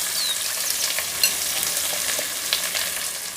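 Chopped onions frying in hot oil with mustard seeds and curry leaves in a pressure cooker, giving a steady, close sizzle with faint crackles and a few soft stirring clinks, no voices.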